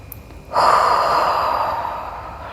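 A deep breath during a beginner Pilates exercise: a sharp nasal intake followed by a long, loud, breathy exhale that slowly fades, close to the listener with no talking.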